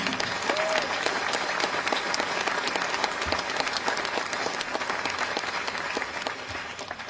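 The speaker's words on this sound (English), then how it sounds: "That deserves applause." Sustained applause from an outdoor commemoration audience marking the anniversary of the Kent State May 4 shootings, a dense steady wash of many hands clapping that continues evenly throughout at moderate distance.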